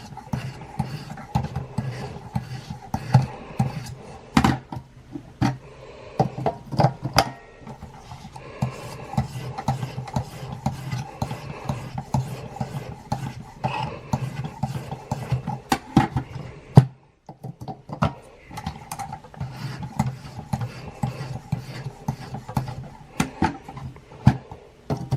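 A knife edge is honed on a Work Sharp sharpener with steady, repeated rasping strokes, close and fairly quiet, in an uneven rhythm with a short pause partway through.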